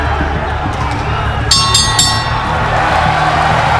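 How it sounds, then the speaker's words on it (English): A boxing crowd roars in an arena during a late-round fight, a broad steady swell with a few sharp metallic clinks rising above it, a commentator talking over the noise. "Crowd roars."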